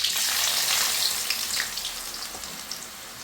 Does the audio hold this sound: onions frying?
yes